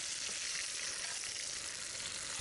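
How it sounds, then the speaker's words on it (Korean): Kimchi and beef sizzle and fry in a pot on a camping stove, a steady close crackling hiss without pauses, with faint stirring and no voices. "김치랑 고기도 어느 정도 다 익었고 다 지져진 것 같습니다"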